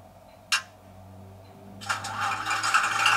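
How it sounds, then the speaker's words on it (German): A Piko TT model locomotive's small electric motor starting up: a brief click, then a rising mechanical rattle and whir that grows louder toward the end, close and alone with no talk. "man sieht, wenn man den Motor startet,"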